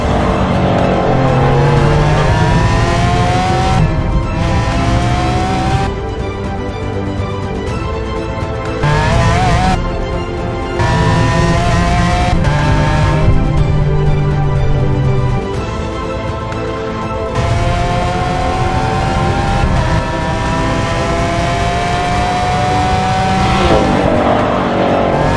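A Lamborghini Aventador LP 750-4 SV with 750 horsepower storms around the Nürburgring, its engine screaming up through the gears in loud, repeated rising sweeps, cut by brief gear-change dips, with occasional tire squeal.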